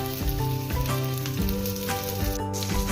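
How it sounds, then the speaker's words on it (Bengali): Green chillies and nigella seeds sizzle in leftover fish-frying oil in a kadai, a steady, close, crackling fry with no talking. "কড়াইয়ে যে অবশিষ্ট তেল রয়েছে তাতে আমরা কাঁচা লঙ্কা ও কালো জিরা দিয়ে দিব।"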